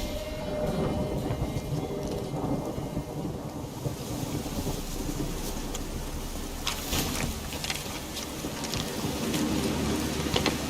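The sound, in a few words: rain and thunderstorm in video game The Witcher 3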